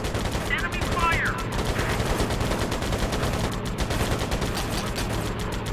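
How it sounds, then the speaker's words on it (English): Enemy gunfire rattles through an aerial dogfight in the video game Air Conflicts: Pacific Carriers, a steady loud wash of rapid shots layered over constant engine drone with no pauses. "Enemy fire!"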